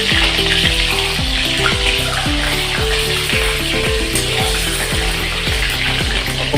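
Four eggs frying in hot oil in a pan: a steady, loud sizzle runs throughout, with a rhythmic clatter of stirring or scraping on top.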